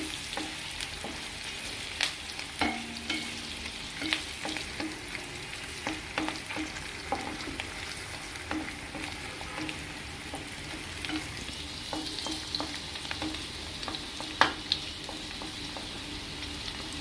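Sliced onions and green chilies with a bay leaf frying in oil in a pan for a dondakaya masala curry, a steady close sizzle broken by frequent clinks and scrapes of a spoon stirring.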